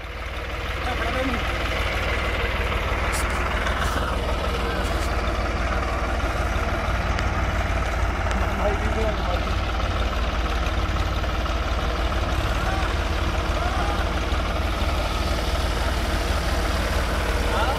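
A New Holland 3630 tractor runs on a farm with a steady, even engine drone throughout, and voices are heard over it.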